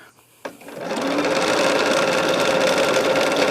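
A sewing machine for sewing and quilting starts up after a soft click and settles into a steady, loud, fast whirring hum of continuous stitching, close to the listener.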